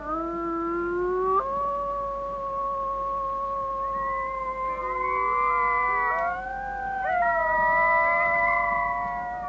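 Arctic wolf pack with pups howling together on Ellesmere, several long sustained howls overlapping and sliding in pitch, clear and moderately close, with higher pup voices joining in and no talk.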